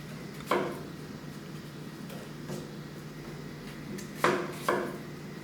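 Knife chopping cilantro stems on a cutting board: a few sharp, separate thuds spaced over several seconds, the last two close together, over steady room hum with no talk.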